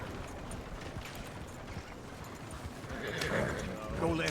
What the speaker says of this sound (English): Damn horse kicked me off again, so I killed it.